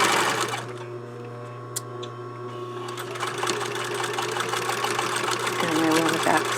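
A sewing machine back stitching along a blouse collar edge, a steady close mechanical whir with rapid needle clatter running throughout, with a voice speaking over it.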